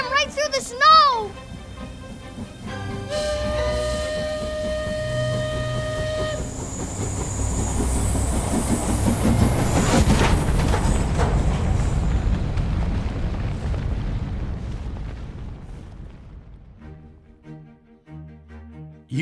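A train roars forward and rams through a snowbank, building to a heavy rushing crash and rumble as it ploughs through, with voices and music at the edges before fading.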